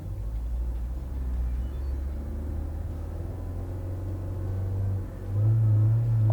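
A DFSK Glory 580 SUV labours up a steep incline, its engine a low steady rumble that swells near the end as the throttle opens, heard from inside the car without talk.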